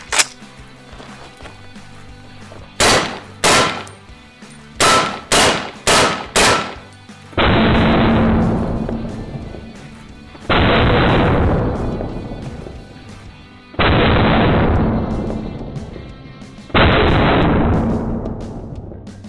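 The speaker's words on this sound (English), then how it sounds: "Next up, we're taking this Culper Precision Built AR-10. Putting some 308 at it, and this is just the regular standard M80 308." A Culper Precision AR-10 fires standard M80 .308 rounds at body armor: several sharp shots come first, then four heavy booming reports with long decaying echoes, loud and spaced a few seconds apart.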